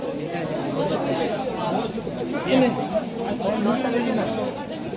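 Pigeons coo amid the crowd at a large pigeon market in Kolkata, their soft calls mixed into a steady hubbub of people talking nearby.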